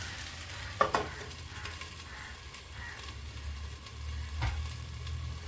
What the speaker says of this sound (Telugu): కొంచెం సిమ్లో పెట్టి 1 నిమిషం మగ్గనిద్దామండి